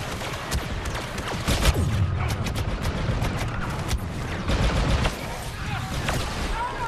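Blaster gunfire in Star Wars Battlefront 2 on Scarif during a co-op mission, dense overlapping bursts and sharp shots crackling continuously at close to mid range, loud throughout with a busy battle din underneath.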